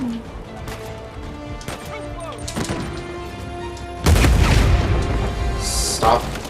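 Grenade explosions in the video game Uncharted 4: a loud burst of blast and debris noise erupts partway through and rumbles on to the end, following quieter game ambience with scattered impacts.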